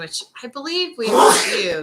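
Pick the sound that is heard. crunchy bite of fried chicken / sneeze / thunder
sneeze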